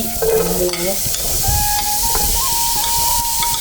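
Onions fry on a high flame for chicken Manchurian, a loud close hiss and sizzle with stirring scrapes and clatter early on, then a thin steady whistle-like tone over the frying.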